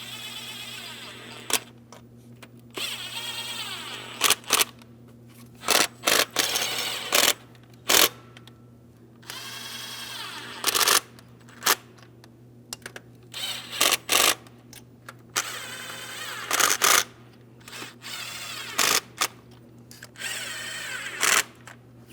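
A power tool whirs in repeated short bursts while driving the VVT solenoid mounting bolts on a 2007-2014 Ford Edge 3.5L V6 engine, with brief quiet gaps between each close, loud run.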